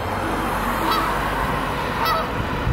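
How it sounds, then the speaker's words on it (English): Geese honking repeatedly over a steady roar of wind and road noise, a couple of sharper honks standing out near the start and middle. "they don't drown out the honking of the geese"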